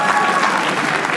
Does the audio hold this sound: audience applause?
yes